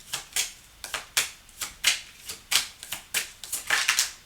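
Tarot cards being shuffled, a series of crisp rapid riffling bursts in quick succession, close and clear with no talking.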